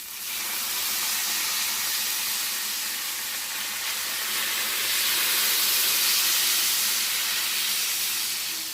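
Bajra flour rava dosa batter poured onto a hot pan, giving a steady, loud hiss of sizzling that holds evenly with no talk over it.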